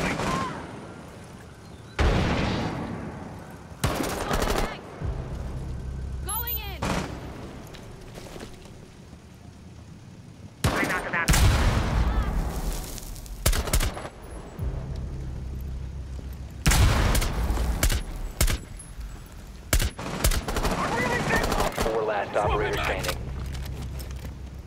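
Scattered gunshots and short bursts of fire in Rainbow Six Siege, a Favela team deathmatch, pop up irregularly amid game noise and sharp impacts, mostly under players talking over voice chat.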